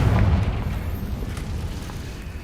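A Confringo spell blast in Hogwarts Legacy, a dense rumbling boom that swells at the start and then rolls on as a heavy, steady roar.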